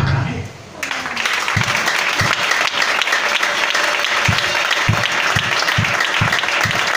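A church congregation breaks into loud, sustained applause and cheering, dense clapping filling the room with a few heavier rhythmic claps standing out, after a brief voice at the start.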